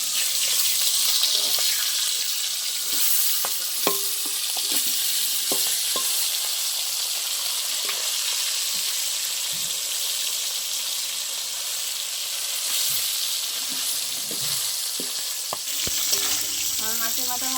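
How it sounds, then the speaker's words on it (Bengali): Fish heads frying in hot oil give a steady, close sizzle throughout, with scattered pops and the clatter of stirring; no one speaks. "আমার মাছের মাথা ভালো লাল লাল করে ভাজা হয়ে গেছে"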